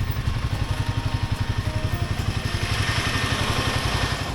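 A Royal Enfield Himalayan 450 engine thumps in a steady, even rhythm, heard nearby and fairly loud with no talking over it.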